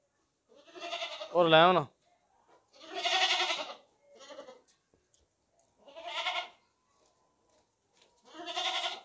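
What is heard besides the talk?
goat bleating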